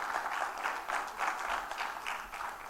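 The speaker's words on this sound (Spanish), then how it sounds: "Dele palmas al Señor si lo cree." Church congregation clapping together at an Easter service, a steady rhythmic patter of many hands filling a reverberant room, moderately loud with no voices over it.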